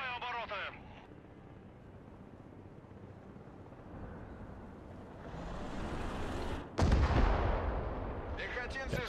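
A Burattino rocket artillery strike in the Broken Arrow war game: a low rumble swells, then a sudden loud, close blast erupts into a heavy roaring barrage, with a brief voice before and after.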